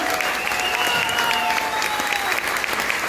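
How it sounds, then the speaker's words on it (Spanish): Warm, sustained applause rises from a concert audience for a singer at an intimate live show in Estación Barranco, with whistles and cheers over the steady clapping. "Quiero que le dé un fuerte aplauso, por favor,"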